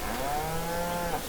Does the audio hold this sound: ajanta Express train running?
no